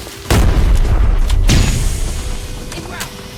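Explosions in the shooter game Arena Breakout, two loud deep booms in quick succession, close and heavy, with rumbling decay between them.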